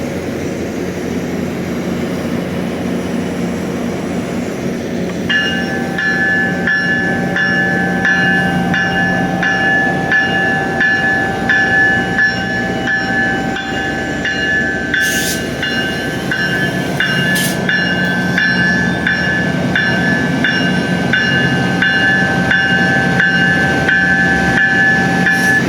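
A GO Transit MP40PH diesel locomotive, number 602, departs Agincourt GO Station pulling 10 cars: a steady, loud engine rumble with sustained tonal whine and hum, plus a couple of brief high hissing bursts midway.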